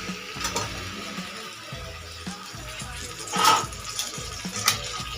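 Fried chicken pieces are stirred into a spice masala in a pan, giving a continuous sizzle with scraping stirs and a few louder clinks of the utensil against the pot.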